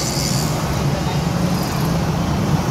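Congested road traffic during peak hour beside a street protest hums as a steady low roar of idling and crawling cars, buses and trucks, close and continuous, with faint voices mixed in.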